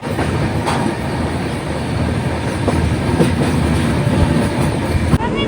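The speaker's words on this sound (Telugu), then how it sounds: "ట్రైన్ అయితే వచ్చేసింది" A train rolls into a station with a steady low rumble and rhythmic clatter of wheels, loud and close, with occasional squeaks and clanks.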